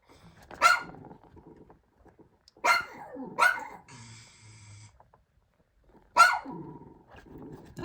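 A dog at home barks in four sharp single barks with pauses between them, close and loud, with a brief low rumble in one gap.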